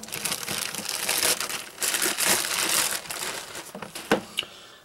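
Thick plastic mystery bag from a knife and gear retailer crinkles and crushes loudly and continuously as it is handled and torn open, with a few sharper crackles near the end and no talking.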